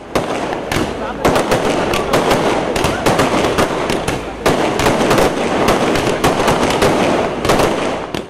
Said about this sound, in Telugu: అడుగడుగునా పూలమాలలు వేస్తూ, బాణసంచా కాలుస్తూ స్వాగతించారు.